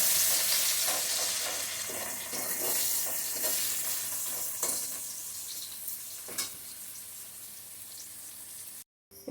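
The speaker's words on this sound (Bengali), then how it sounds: "এখন পেঁয়াজগুলি ভেজে তুলে নিচ্ছি।" Onions fried in oil to make beresta, giving a continuous close sizzle with scattered crackles and stirring scrapes that fades slightly toward the end, then cuts out briefly.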